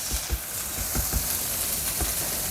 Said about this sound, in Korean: 그리고 또 양파 반 개를 넣어서 이렇게 볶아줍니다.